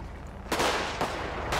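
Three sharp gunshots ring out at even half-second intervals in a Spijkenisse roleplay video game, each a loud broadband crack with a short decaying tail, with no talking between them.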